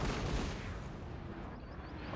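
Cannon artillery fires in the battle game Napoleon: Total War, a dense, continuous rumble of blasts and booms with no voices over it.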